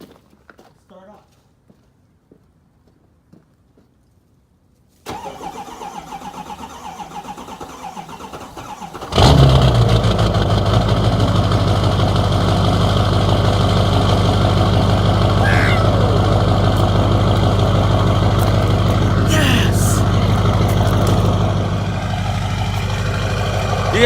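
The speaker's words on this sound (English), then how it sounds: "Let's see if the old girl will start up." After several seconds of near silence and a rise in background noise, an old truck engine cranks and catches, then settles into a loud, steady, rumbling idle close to the microphone, dipping slightly near the end.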